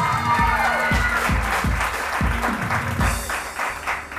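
Talk-show studio audience applauds as a doctor from Karachi is welcomed on stage, loud clapping over rhythmic thumping music beats, without speech.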